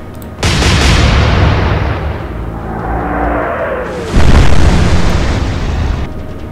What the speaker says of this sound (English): we still caused an explosion